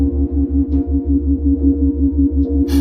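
Steady hemisync binaural tones hum continuously, with a low throbbing pulse that beats at an even rate, and a brief noisy burst at the end.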